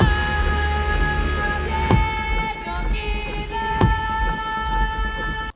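An unprocessed epic vocal layered with Dune-inspired sound samples forms a dense, sustained drone with long wavering tonal lines over a low rumble, broken by two sharp hits.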